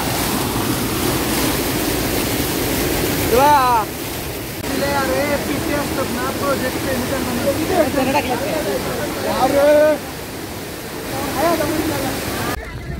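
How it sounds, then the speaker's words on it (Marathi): The waterfall at Devkund gives a steady, loud rushing roar that fills the whole scene, with people chatting and calling over it throughout. "जर वॉटरफॉल बघा तुम्ही किती छान आहे, सुंदर"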